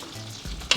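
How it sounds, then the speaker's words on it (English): Butter sizzles in a hot pan while rice for Greek lemon rice is cooked, a soft frying hiss with a stir or clatter near the end, close and fairly quiet, no talk. "I can hear the butter sizzling"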